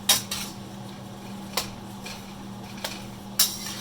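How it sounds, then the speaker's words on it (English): A few sharp metallic clinks of a utensil striking a pot while carrots and potatoes are stirred for curry chicken, spaced irregularly over a low steady hum, no talking. "Let me just give these a quick stir."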